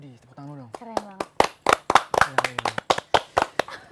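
Hand clapping during an Indonesian talk show in Bogor: a quick run of about a dozen sharp, close claps in an uneven rhythm, with a voice talking over and between them.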